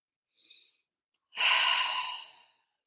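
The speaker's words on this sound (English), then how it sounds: "Taking a nice deep breath, breathe that activation in." A single long, deep breath exhaled close and clearly, an airy rush lasting about a second after a faint soft tone, with no talking.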